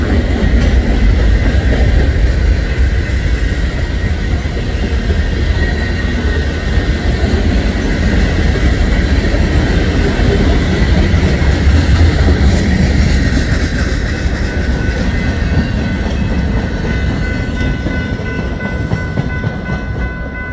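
Southbound Norfolk Southern freight manifest train led by a C44ACM locomotive rumbling past at 5th Street in Birmingham, Missouri, a loud, steady, close roar of rolling cars with faint wheel squeal, no voices.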